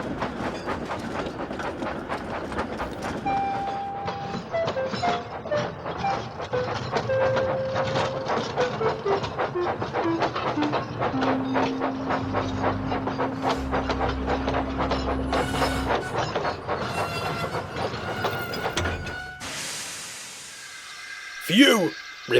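A steam locomotive backs slowly down a hill with steady, rhythmic clicking and clanking of wheels on rails and a long metallic squeal, ending in a burst of hiss.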